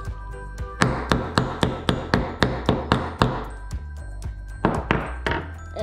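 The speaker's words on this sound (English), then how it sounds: "Okay, use this hammer." A hammer strikes a part repeatedly to tighten it while building a toy castle kit, giving about a dozen loud, close, evenly spaced metallic thunks, with a short pause and a few more blows near the end.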